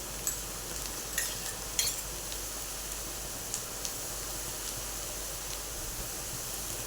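Crushed chili and garlic sautéed with onion in a pan, a faint, steady background frying hiss broken by a few light spoon clinks and stirs.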